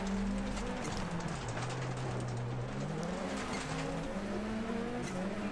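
A rallycross car engine in the racing game Dirt Rally 2.0 at the Killarney track drones steadily, its pitch dipping and climbing through gear changes, with faint gravelly clatter behind it.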